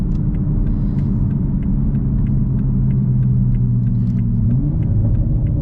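Toyota Supra inline-six fitted with an intake, catted downpipe and catback exhaust, holding a steady loud cabin drone with a low pitch that climbs briefly near the end, continuous and without talk.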